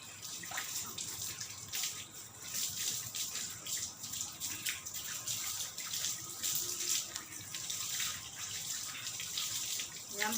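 Water streams steadily from a tap while a pet dog is bathed in warm water at home, a continuous hissing splash close by with faint uneven spatters and no talk.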